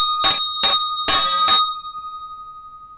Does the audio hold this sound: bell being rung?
yes